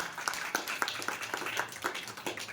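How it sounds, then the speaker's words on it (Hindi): Audience at a religious darbar gathering clapping along, a steady series of sharp claps at a regular beat, fairly close, with a murmuring crowd underneath. "अच्छा तो पहली बार तो धीरज के लिए जोर से तालियों का गड़गड़ाहट हो जाए"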